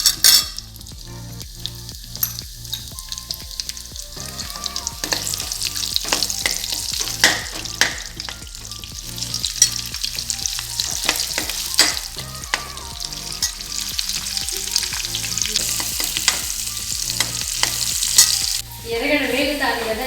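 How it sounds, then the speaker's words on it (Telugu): Onions frying in oil in a pan for Tamil Nadu Chettinad chicken: a loud, continuous sizzle with frequent regular scraping taps of a spoon stirring throughout, close up and without talk. "ఎర్రగడ్డ వేగుతాను కదా"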